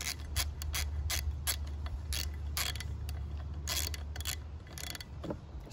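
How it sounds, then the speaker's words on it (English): A ratchet tightening the nut onto a lawn mower aeration wheel, giving repeated quick clicking strokes in short bursts over a steady low hum, close and moderately loud. "Use a ratchet, seems to work best."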